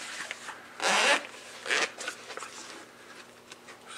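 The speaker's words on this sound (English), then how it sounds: "So let's unzip it." The zipper on the case of an Irix 15mm f/2.4 ultra wide angle lens is pulled open up close, giving two quick rasping zips followed by faint soft rustles and taps.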